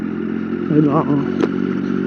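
A Triumph Daytona 675R from 2011 holds low revs around 2000 rpm in sixth gear, a low steady engine rumble with slight clatter running continuously as someone talks over it.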